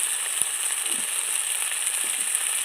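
A spice masala with turmeric and salt sizzles in a pan for a deshi chicken curry: a quiet, even hiss with a few soft taps from stirring.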